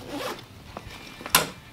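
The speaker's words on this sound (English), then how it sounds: "If we open this bad boy up, big U-shaped zipper as you can see." The large U-shaped zipper of an Easton Walk-Off IV bat pack is pulled open in a few quick rasping strokes, ending with one sharp, louder zip.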